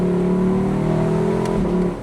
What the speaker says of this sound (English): listen to that glorious V8